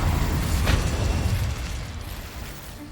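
An Incendio fire spell cast in Hogwarts Legacy bursts out with a loud whooshing roar that peaks early, then fades into a lower rumbling tail, with no talking.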